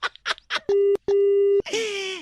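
A steady electronic telephone tone in two long beeps after a hang-up on a prank call, preceded by brief speech and followed by a radio station jingle with voices.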